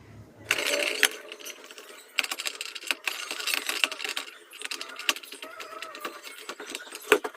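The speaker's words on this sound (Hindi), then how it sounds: "चलिए अब इसके स्क्रू लगा लेते हैं।" Small screws being driven into the motor housing of a nebulizer machine during repair, heard as close clicking, metallic ticks and brief scraping bursts in an uneven rhythm, with no talking.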